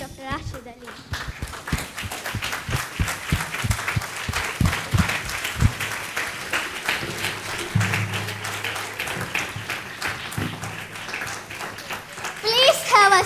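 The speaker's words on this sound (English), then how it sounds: "please stand up and make a big applause for His Excellency Dr. Rashid Aleem" Participants stand and give a big round of applause for Dr. Rashid Aleem, dense clapping that rises and persists for several seconds, with children's voices and crowd chatter mixed in and a louder swell near the end.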